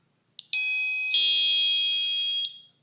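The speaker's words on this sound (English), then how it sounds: "But the alarm, if I set the code for it, now you're really about to hear something loud." Loud wireless home security alarm siren, a short chirp followed by a sustained piercing electronic tone lasting about two seconds that shifts pitch partway and then cuts off, heard alone.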